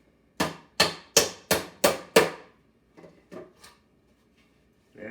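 Six sharp hammer blows drive nails into a wooden bluebird nestbox in a quick even rhythm, close and loud, followed by a few lighter taps.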